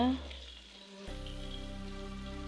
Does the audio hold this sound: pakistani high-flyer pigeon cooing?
no